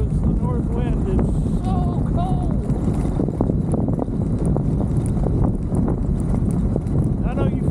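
A cold north wind buffets the microphone at Copper Breaks State Park in Texas, a loud continuous low rumble that runs the whole time while someone talks over it.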